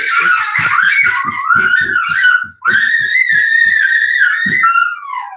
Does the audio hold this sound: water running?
no